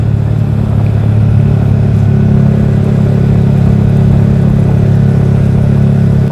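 A Yamaha R15 V3 motorcycle fitted with a Daytona Evolution exhaust idles and revs close by, a loud, steady engine drone with a slight rise in pitch partway through, alone without talk.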